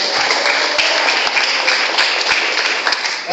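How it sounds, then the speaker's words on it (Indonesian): A church congregation at a service bursts into loud, sustained applause, a dense wash of many hands clapping that fills the room evenly from start to finish. "Berikan tepuk tangan yang dahsyat."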